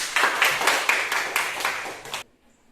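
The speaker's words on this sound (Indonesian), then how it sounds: "Tepuk tangan untuk Carlos." A classroom of students claps in rhythmic unison, about a dozen quick beats, close and lively, before stopping abruptly into near silence.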